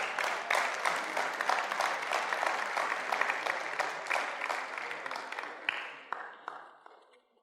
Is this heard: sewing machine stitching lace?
no